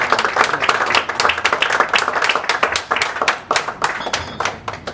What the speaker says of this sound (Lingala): Nous allons acclamer pour dire merci au Seigneur